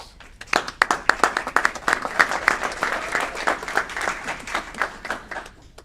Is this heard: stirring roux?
no